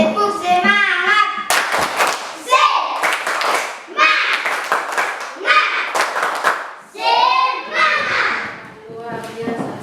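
A class of schoolchildren performs a rhythmic spirit clap in a classroom, with sharp bursts of clapping in repeated patterns. The children chant loudly together between the claps.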